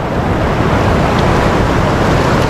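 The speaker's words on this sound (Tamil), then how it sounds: "இந்த மாதிரி ராபிட்ஸ் இருந்தால் தான் உங்களால் ரிவர் ராஃப்டிங் பண்ண முடியும்" River rapids in Papua New Guinea during the dry season, running slow with low water, give a steady, loud broadband rush of flowing water with wind buffeting the microphone and no voices.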